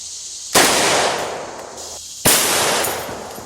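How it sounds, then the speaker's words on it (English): Two loud, close gunshots from an M&P 22 and a 9mm pistol hit a tilted steel armor plate outdoors. Each blast carries a long, rumbling echo tail, and the two are about 1.7 seconds apart. "We're going to shoot it with this M&P 22 and also with 9mm."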